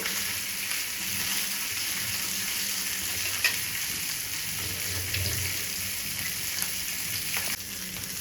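Lemon fish pieces frying on a flat griddle pan, giving a steady, close, broadband sizzle and crackle throughout, with faint pops and a few soft clinks and no talking.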